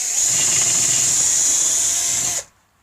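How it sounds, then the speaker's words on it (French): A power drill bores small holes in a thin wooden batten for a little fence, giving a steady high whine that runs alone for about two and a half seconds and then cuts off abruptly. "je perce juste tous les petits trous"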